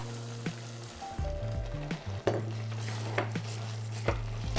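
Rice going into a hot pan of shrunken mushrooms over medium-high heat: a soft sizzle beneath sharp clinks and scrapes of a utensil against the pan, with a steady low hum throughout and no talk.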